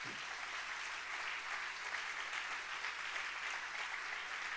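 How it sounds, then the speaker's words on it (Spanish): A church congregation applauds during a Spanish-language worship service, giving several seconds of steady, even clapping that sounds faint and somewhat distant, with no voices over it. "¿Cuántos le dan un aplauso al Señor?"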